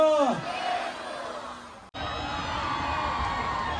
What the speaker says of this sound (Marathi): जोरदार टाळ्या झाला पाहिजे